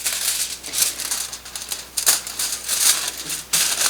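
Thin Reynolds Wrap foil sheets being torn in half by hand, giving close, loud crinkling and ripping bursts in quick irregular clusters with short pauses between them.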